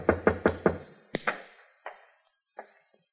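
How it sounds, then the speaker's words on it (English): A radio drama sound effect of knocking on a door: four quick firm raps, then a few slower, fading knocks with short echoing tails, alone without talk. "waited for your knock on my door"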